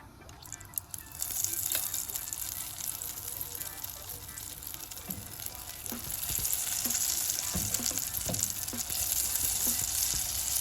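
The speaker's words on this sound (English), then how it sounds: "Next we're gonna fry these jalapenos up, so let's get that done. We'll drop these guys in one by one." Jalapenos frying in hot oil, dropped in one at a time, giving a steady loud sizzle and bubbling with occasional small splashes and pops as each piece goes in.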